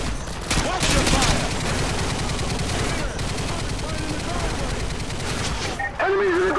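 Sustained automatic gunfire from infantry combat in the video game Modern Warfare 2, dense rapid bursts layered loud and close, with shouted voices over the shooting.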